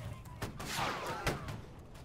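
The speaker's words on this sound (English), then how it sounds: "Carpenter guy shot at me. He has a shotgun." Shotgun blasts in the musket-era multiplayer game Holdfast, a couple of sharp cracks rising out of a busy battlefield din, with a player talking over the action.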